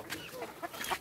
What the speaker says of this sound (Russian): Вот это оранжевая кура.